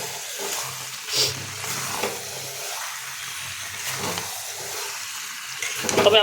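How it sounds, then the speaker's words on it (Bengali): Fried prawns being stirred with a spatula in a pan with fried potato and young jackfruit, a steady soft sizzle with light scraping and clinks, close and continuous. "চিংড়ি মাছটা যোগ করেছি, তাই এটা আমরা খুন্তিতে ভালো কিছুক্ষণ নাড়িয়ে নেব।"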